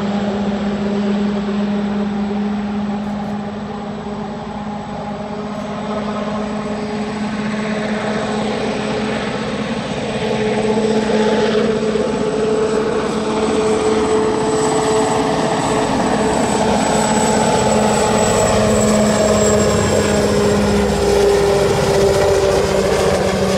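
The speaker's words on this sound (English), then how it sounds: "Watch what happens when they spin the engine up." A large engine spins up with a loud, steady roar and whining tones that slowly shift in pitch, continuous and close for over twenty seconds with no talk.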